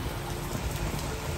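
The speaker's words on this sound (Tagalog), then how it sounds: "Naging lakas ng ulan." Steady, dense hiss of heavy rain pouring down, a constant broadband wash with no voices or breaks.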